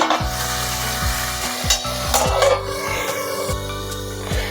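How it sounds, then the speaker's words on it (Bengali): Brinjal sautéing in a pan gives a loud close sizzle, punctuated by about ten spaced scraping stirs of a spatula against the pan, with no speech. "বেগুনটা দিয়েও একটু আমি কষাবো।"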